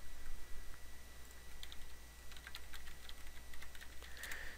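A computer keyboard is typed on in quick, light, irregular clicks over a steady background hum as a command is entered, faint and close by.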